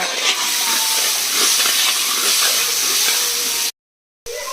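Turmeric and red chili powder masala sizzles as it fries in hot oil, a loud steady hiss close by that runs nearly unbroken, with a short silent gap near the end and no talk.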